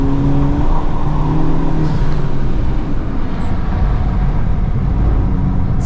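A 2023 FL5 Honda Civic Type R on FK460 all-season tires accelerating through a flooded race track, its engine a loud, steady drone with constant road and water noise and no break.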